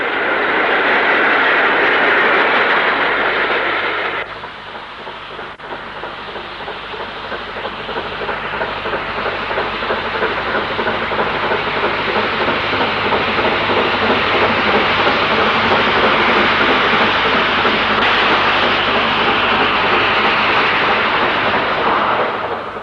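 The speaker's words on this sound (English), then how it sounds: "In the opposite direction, going towards Warrington, is a Britannia, also on a freight" A Britannia steam locomotive hauling a freight train towards Warrington makes a heavy, sustained rumble of wheels and wagons. The sound briefly dips, then swells louder and stays steady throughout.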